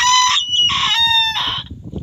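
A chicken held for a mite trim gives loud, drawn-out squawking calls in quick bursts, close and alone, with a scuffling background.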